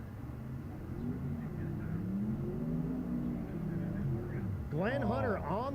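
A 1956 Chevrolet drag car on radial tires runs at a dragstrip street car shootout, its engine droning loud and steady for several seconds, with a commentator talking over it throughout.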